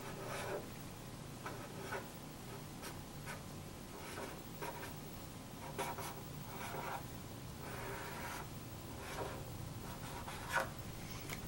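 A pen writes out a math solution on paper, giving soft, close scratching strokes in short irregular bursts that keep up throughout at low level, with no talk.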